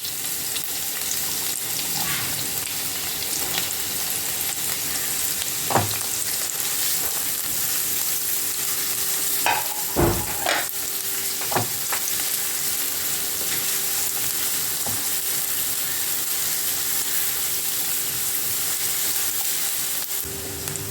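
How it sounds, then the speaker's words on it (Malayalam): Green chillies and sliced onion sautéing in hot oil, a loud continuous close sizzle that holds for about twenty seconds, broken by a few sharp spoon knocks and stirring scrapes against the pan. "നമ്മുടെ ഉള്ളി ഒന്ന് ട്രാൻസ്ലൂസൻ്റ് ആകുന്നത് വരെ ഒന്ന് വഴറ്റി കൊടുക്കാം"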